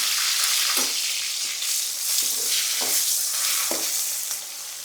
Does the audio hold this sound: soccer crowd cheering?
no